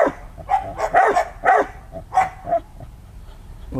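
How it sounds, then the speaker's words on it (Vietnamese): Several sharp, fairly close barks from a German-imported Malinois dog, coming in a quick irregular series with short gaps, loud and clear with no talking over them. "Một chú chó nhập từ Đức,"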